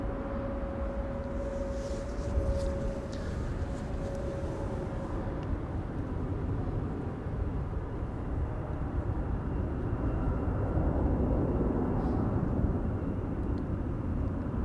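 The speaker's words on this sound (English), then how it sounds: "Croatia Airlines in the Star Alliance livery on its way to Zagreb." Croatia Airlines airliner in Star Alliance livery at Amsterdam Schiphol, a steady broad roar of jet engines holding loud and constant throughout, swelling slightly toward the end, with no voices.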